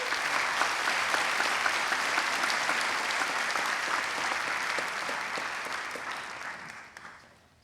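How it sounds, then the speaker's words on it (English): A graduation audience applauds academic all-state graduates with broad, even clapping from a large crowd, held steady for several seconds before tapering off toward silence. "Let's give them a round of applause."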